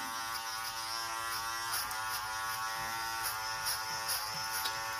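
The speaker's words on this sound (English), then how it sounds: "even though this is a cordless clipper, we still haven't lost any power" A cordless hair clipper runs steadily through a fade on textured hair, a constant close electric buzz with faint brief scrapes as it blends upward.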